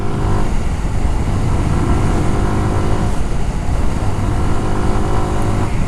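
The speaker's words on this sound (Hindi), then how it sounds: "सो आप जब 6000 RPM क्रॉस करते हो तब ये थोड़ा सा वो क्रैंकिंग टाइप का साउंड आते हैं" A 2024 Suzuki Gixxer 155 naked sport motorcycle revs above 6000 RPM. The engine gives a loud, close, continuous drone with a coarse, cranking-type roughness that holds steady throughout.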